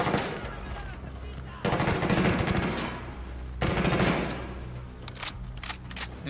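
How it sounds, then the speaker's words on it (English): Gunfire in Ghost Recon Wildlands: loud, close bursts of rapid automatic fire, two long sustained volleys with brief gaps between them, followed by scattered shorter shots. "we're gonna shoot through this"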